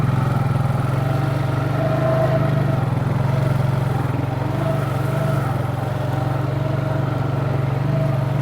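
Steady engine drone from a vehicle mud riding through shallow water, a constant low rumble held at even loudness throughout with no talk.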